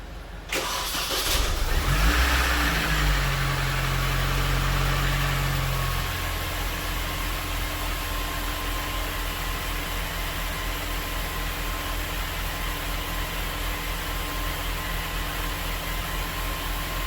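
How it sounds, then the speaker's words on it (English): A Mini Cooper S engine cranks and catches after an oil refill, revs briefly higher for a few seconds, then drops into a steady close idle that runs on alone to the end. "I want to start the car to be sure that we don't have any kind of oil leak"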